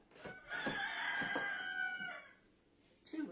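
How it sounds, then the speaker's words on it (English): Two roosters crow at once, their long overlapping calls rising together at close range, followed by a brief pause and the start of another crow. "2 roosters crowing at the same time"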